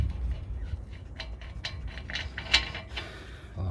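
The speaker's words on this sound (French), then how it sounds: "on continue à dévisser notre écrou" A ratchet unscrews the nut on the rear disc of a Peugeot 308, clicking in short uneven bursts of close metallic ticks over a low background hum, with no speech.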